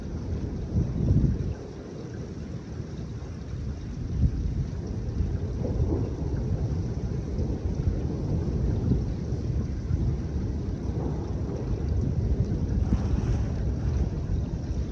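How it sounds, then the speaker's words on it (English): A severe early-April thunderstorm in the mid-Atlantic with tornado warnings: a continuous loud roar of wind and rain buffeting the microphone, with deep rumbles of thunder rolling through and no voices. "We may have another storm coming in from the back, actually."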